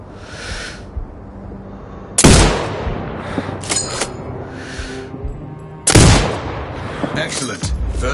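Two loud, sharp sniper rifle shots in the video game Sniper Ghost Warrior Contracts 2 ring out a few seconds apart, each trailing off in a long echo, with quieter clicks and handling noises between them.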